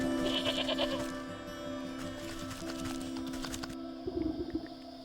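Goat bleating in a video game, a wavering nasal bleat over a steady droning backdrop with tonal game music, followed by a shorter rough bleat near the end.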